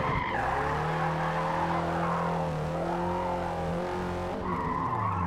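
Subaru BRZ drifting in Forza Motorsport, its engine holding a steady high note under a long continuous tire squeal that wavers in pitch as the car slides, then trails off with a brief rev near the end.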